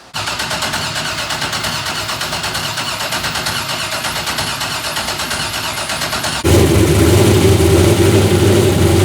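A work truck's engine, fitted with a fuel pump belt, runs in an even rapid chug, then jumps to a louder, fuller roar partway through, close and loud with no voices.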